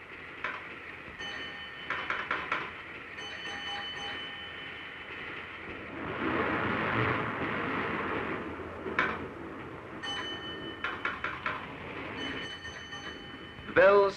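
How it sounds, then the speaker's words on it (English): Railway signal box bells ringing in repeated short bursts of bright metallic strikes, with a low rumbling swell in the middle and a final louder clang, heard fairly near against steady background noise. "The bells speak their message."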